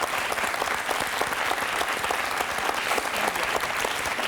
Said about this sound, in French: Je crois qu'on peut applaudir Sébastien.